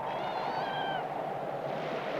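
A kitten named Spunky, kept in a snowbound northern cabin, gives a single thin, rising-and-falling meow over a steady low background hum.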